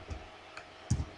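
A handful of soft keystrokes on a computer keyboard, about three quiet, separate clicks with the last one the strongest, set against a faint room hush.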